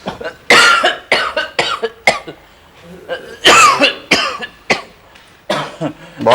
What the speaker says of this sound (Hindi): बहुत खांसी चल रही है?